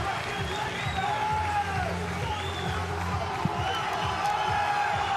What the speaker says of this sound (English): The crowd appreciating what they saw.